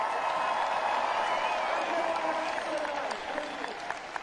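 Thousands of fans applaud and cheer on the red carpet at the Wellington world premiere of The Hobbit, a dense, sustained wash of clapping with occasional whoops, steady and fairly loud throughout.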